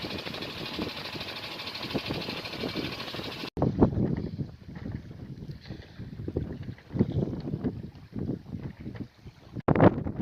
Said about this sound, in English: might have to run the old engine in reverse, see what we get on